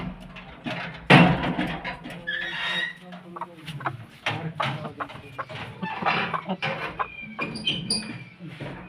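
Aseel rooster and hens on a farm, with loud clucking and crowing calls rising over a steady background, mixed with people talking nearby throughout.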